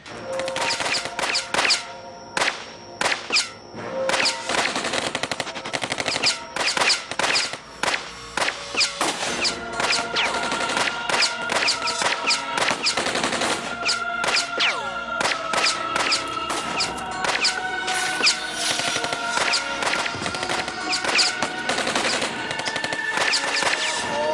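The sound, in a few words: gunfire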